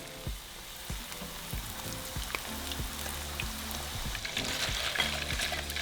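Tortilla chips frying in hot oil for nachos, a steady close sizzle and crackle with bursts of popping and occasional stirring clinks, no talking.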